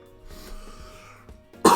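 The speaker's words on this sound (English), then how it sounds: "Sorry, having a little cough." A single short, loud human cough bursting out at the very end after a quiet stretch of faint background noise.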